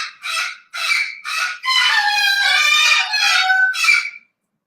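A rescued pet bird calls close by in a series of loud, harsh, honking cries, short at first and then a longer drawn-out squawk, with no voices or other sounds.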